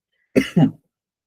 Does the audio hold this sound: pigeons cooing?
no